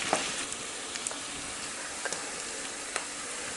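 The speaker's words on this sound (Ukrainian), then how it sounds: "кидаємо нашу цибулю, смажимо до золотавості" Steady, soft sizzling of onion frying in oil in a pan, a continuous crackling hiss with a few faint clicks scattered through.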